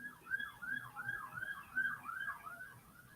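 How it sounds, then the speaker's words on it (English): A wailing ambulance siren sweeps up and down repeatedly, somewhat distant but steady and clear, with no talking. "Y'all hear the ambulance?"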